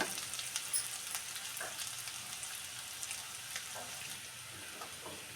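Mashed potato stuffing for capsicum fries in a pan, a soft, faint sizzle with occasional light stirring sounds, no talking.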